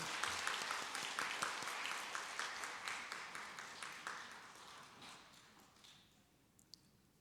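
Congregation applause at a church award ceremony, a moderate, fairly quiet patter of clapping in a hall that gradually thins out and trails off into a few scattered claps.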